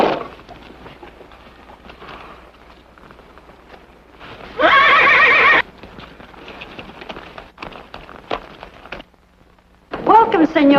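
Horses whinny loudly twice with a short gap between, while hooves clip-clop and shuffle in a steady rhythm. The sound is close and carries no talk.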